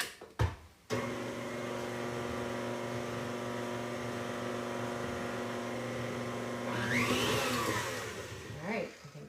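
A stand mixer's paddle beats crumb cake batter in a bowl, droning with a steady, close motor hum after a brief thump at the start and growing a little louder and more whirring near the end.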